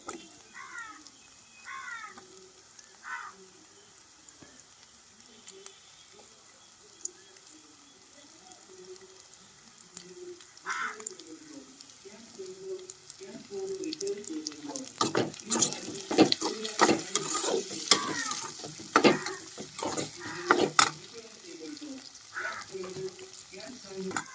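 Tomatoes fry with onions and chillies in a pan, with a steady sizzle and occasional stirring and scraping. The frying grows louder and busier toward the end.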